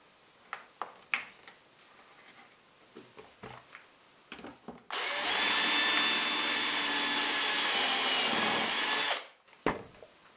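A few light knocks and handling sounds, then a power drill whines loudly for about four seconds as it bores into a clamped wooden dowel, before stopping and more clatter.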